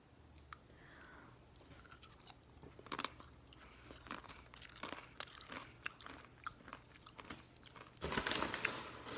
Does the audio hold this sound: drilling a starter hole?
no